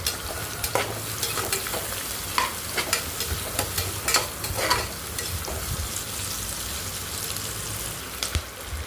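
Ingredients for meal maker biryani sauté in a pan, a constant close sizzle broken by frequent sharp scrapes and clicks of a spatula stirring against the metal.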